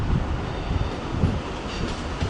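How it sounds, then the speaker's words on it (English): An ICE3 high-speed train at Köln Hauptbahnhof gives a low steady rumble with faint rolling wheel noise across the station, moderately distant and unbroken, with no voices. "So there's an ICE3 train over here."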